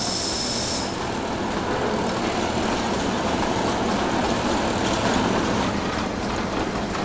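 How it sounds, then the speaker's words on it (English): A train pulls into a Swiss railway station, giving a steady, broad rumbling hiss that stays constant throughout with no voices over it. "This is the railway station. The train pulls in."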